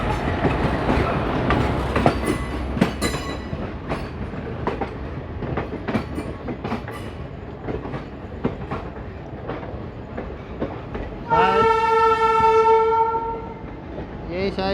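A train passes on an Indian railway line with rolling clatter and rumble, then a loud sustained horn blast sounds near the end, heard from aboard the Delhi Fazilka Intercity Express.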